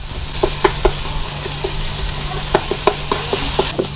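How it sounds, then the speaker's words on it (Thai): Canned fish being stir-fried and mashed with tom yum paste in a pan for fried rice: a steady sizzle under sharp clinks and scrapes of a utensil against the pan, close and clear. "พอเข้ากันดีแล้วเราก็ใส่เนื้อปลากระป๋องลงไปนะครับ ให้เราคีบใส่ลงไปแต่เนื้อหนึ่งตัว ขยี้ได้เลยครับ"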